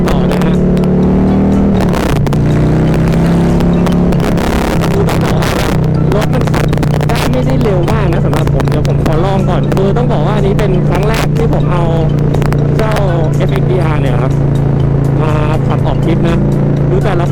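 A loud Harley-Davidson motorcycle revs and roars continuously up close, its pitch rising and falling with throttle bursts, while someone talks over it.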